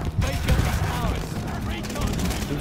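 Rapid gunfire crackles in a first-person shooter match, with loud overlapping shots filling a short burst while a player talks over the action.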